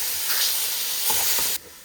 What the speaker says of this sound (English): Yeah, I love that sizzle.